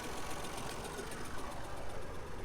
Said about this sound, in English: Getting used to driving a tractor is quite a skill.